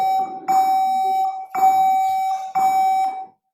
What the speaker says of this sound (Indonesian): Alarm udah bunyi.